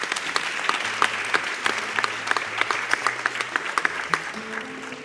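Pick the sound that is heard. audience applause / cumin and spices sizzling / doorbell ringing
audience applause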